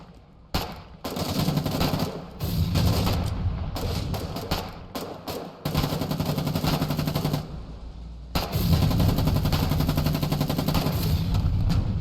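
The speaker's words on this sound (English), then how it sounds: "I also really liked this explosion and it caught me off guard." Loud, close bursts of gunfire and blasts from the Foxhole war game come in rapid clusters, with short pauses between volleys.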